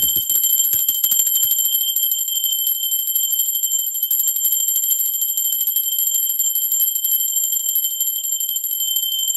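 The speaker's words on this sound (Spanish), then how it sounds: "Va campana, ser divino, sin preámbulos." A bell rung to open a tarot reading sounds with a bright, sustained metallic ring whose high tones hold steady and slowly fade, quick strikes at the start, no speech.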